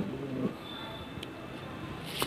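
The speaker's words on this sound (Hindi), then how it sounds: "आपको दिखाते हैं कि हम कौन कौन सी नस्ल के आज कबूतर लाए हैं" Baby pigeons coo softly and steadily in a loft, a faint, low, murmuring coo under quiet background noise.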